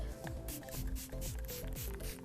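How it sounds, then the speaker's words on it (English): Several quick spritzes of facial primer water from a spray bottle, short airy bursts in an uneven rhythm, close by over a faint background hum. "So I'm gonna use this primer water first and just spray this all over."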